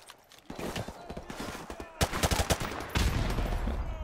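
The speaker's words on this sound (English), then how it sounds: "Let's chuck a grenade real quick." Gunfire and a grenade throw in the video game Modern Warfare Remastered: rapid shots and bursts of combat noise growing louder over a few seconds, with a heavy blast toward the end and brief speech.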